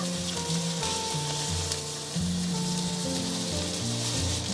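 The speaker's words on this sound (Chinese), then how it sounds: "平底锅里面我们倒入食用油，接着我们放入芋头丝" Shredded taro sizzles in cooking oil in a flat pan, a steady close crackle and hiss that runs on continuously with no one speaking.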